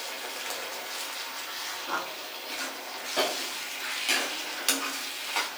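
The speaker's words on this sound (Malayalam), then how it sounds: "ഇതിന്റെ അകത്തുള്ള ആ വെള്ളം തന്നെ വേണം ഈ ചീനച്ചട്ടിയിലേക്ക് ഒഴിച്ചു കൊടുക്കാനായിട്ട്" Water from a pressure cooker is poured into a frying pan of potato and cabbage, raising a loud, continuous sizzle with occasional scraping stirs, close up.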